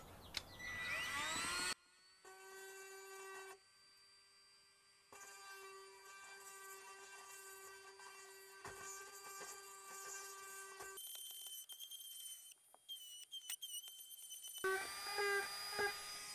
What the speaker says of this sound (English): I'm gonna start drilling my hole just right there, which is about 1/8 inch in front of where I see the crack